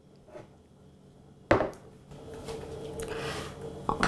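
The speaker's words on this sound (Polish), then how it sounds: "a ja zacznę od krojenia naci" A knife chops carrot tops in a kitchen for soup: one sharp, close cut lands, then a stretch of rustling, crunchy chopping, and another crisp cut follows, without speech.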